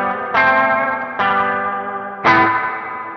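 A Meris Mercury X reverb pedal set for a spring tank sound with dwell at full carries three struck guitar notes, each a bright attack that blooms into a long, wet, shimmering tail.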